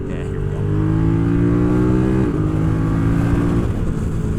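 Moto Morini Xcape 1200 motorcycle engine revving out along a straight, a loud steady drone with rising and falling pitch, two brief dips as the throttle shifts, continuous and close throughout.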